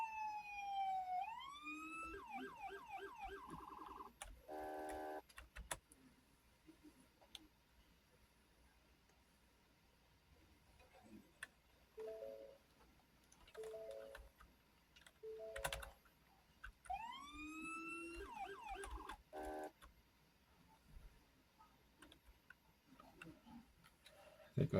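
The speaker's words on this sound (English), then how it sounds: "They all have the same sirens" Police car sirens in a Roblox roleplay game, including a 2024 Mustang, sweep up and down in loud wailing bursts near the start and again later, with quieter clicks, short tones and faint speech between them.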